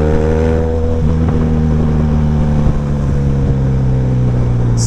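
Benelli TRK 502 motorcycle overtaking on a road, a loud close engine drone with steady harmonic tones and a slight pitch rise, wind noise mixed in, no talk.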